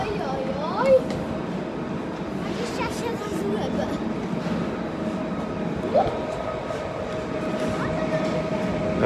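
A train waits at a Polish station platform before a trip to Żywiec, a steady low rumble with brief squeals and clanks of railway equipment, and people talking faintly nearby.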